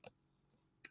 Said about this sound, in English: Sorry, I'm typing while I'm talking,